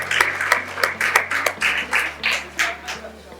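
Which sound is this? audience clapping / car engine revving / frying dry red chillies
audience clapping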